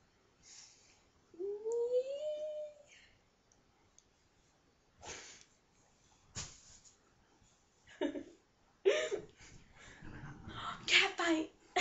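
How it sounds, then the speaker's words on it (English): Cats fighting indoors, with a rising yowl and scattered scuffling clicks and hisses in short bursts separated by quiet gaps, fairly faint overall. "Cat fight."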